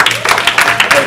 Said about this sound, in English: Clap if you got kids.